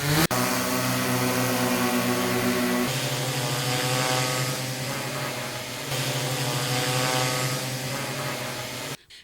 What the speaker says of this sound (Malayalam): ഡ്രോൺ ഉപയോഗിച്ചുള്ള കീടനാശിനി തെളിക്കൽ നടത്തിയത്